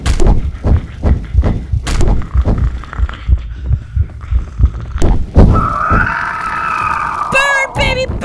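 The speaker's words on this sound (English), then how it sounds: "watching as it started thrashing around violently and smashing into the furniture" A monster in a horror role-playing video game thrashes violently and crashes into furniture, a run of loud, irregular thuds and bangs that gives way to shrill, wavering creature cries near the end.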